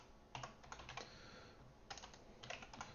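Typing on a computer keyboard while coding, with quiet bursts of key clicks separated by short pauses, close and alone without talk.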